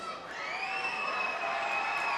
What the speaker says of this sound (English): He has a huge cheering section off to the side.